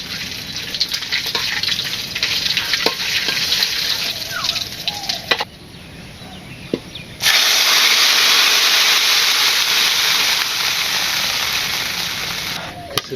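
Khichuri cooking with panch phoron spices in a village kitchen, heard as a steady sizzling, steaming hiss with scattered crackles and clinks, rising to a louder continuous rush partway through.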